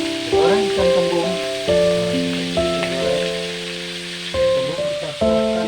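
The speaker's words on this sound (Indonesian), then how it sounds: "Goreng ikan kembung." Indian mackerel frying in hot oil, with a steady sizzle running underneath. Loud melodic music with sustained notes plays over it throughout and largely masks the sizzle.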